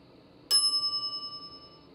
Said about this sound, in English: I step away from the counter for 2 seconds and some idiot's already ringing that stupid bell.